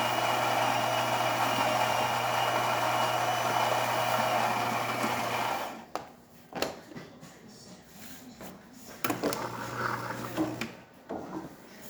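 Saeco Xelsis Evo super-automatic espresso machine, freshly serviced with a replaced pump, pulling a shot: a loud steady pump drone and grinding hum for about six seconds, then quieter clicks, drips and intermittent mechanical bursts as it finishes.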